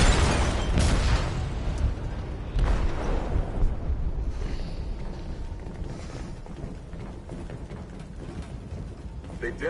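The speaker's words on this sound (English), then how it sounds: "They detonated an explosive in the hold." A detonation in a ship's hold in the video game Detroit: Become Human, with a loud, close blast near the start and a second heavy boom moments later, then a long rumbling, debris-filled roar that slowly eases.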